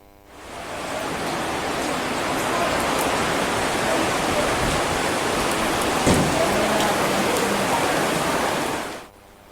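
Steady rain falls on the wooden Bangkoa ferry dock in Makassar, a dense even hiss that holds for about nine seconds, with no voices over it.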